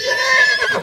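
A horse whinnies at the Pokrovka livestock market, one loud, close neigh lasting under a second with a wavering, high-pitched tone over faint market background.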